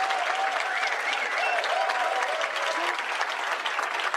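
An event audience claps for the organizing team in a full, sustained round of applause, with a faint voice or tonal sound drifting underneath the clapping.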